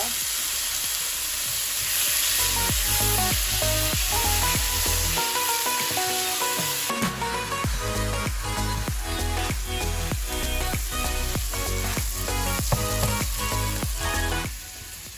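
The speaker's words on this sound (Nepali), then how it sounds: "मैले यसमा 1 टेबलस्पुन घिउ पनि राख्दैछु।" Ghee sizzles in a pan with tomatoes, potatoes and onion for a flattened-rice pulao, a steady close hiss running under rhythmic background music with no talking.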